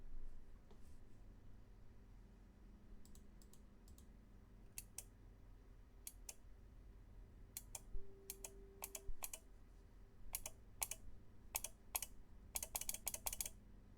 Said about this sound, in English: That's Monica clicking the mouse while modifying the code